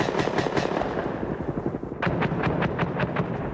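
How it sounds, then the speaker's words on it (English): A Cobra helicopter attack with Hellfire missiles and Zuni rockets on Iraqi artillery positions in the Iraq War, heard as a rapid, steady rattle of explosive bursts over a dense, rumbling roar, with no one speaking. "the U.S. responding with Hellfire missiles and Zuni rockets"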